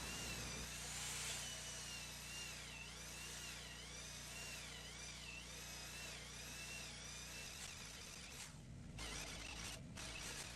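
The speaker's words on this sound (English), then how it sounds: "so I'm drilling them 2 3/4 inches deep. To get it to the correct depth, I'm using the depth gauge on the drill." A power drill runs continuously, boring deep tenon holes in wood for spiral staircase treads with its depth gauge set, a steady loud whine with slight pitch wobble before it stops and a few handling knocks follow.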